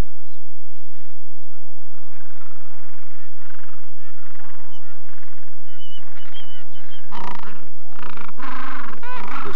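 Penguins at their nests call loudly in greeting, with harsh honking, braying cries that overlap and build into a raucous chorus, especially toward the end.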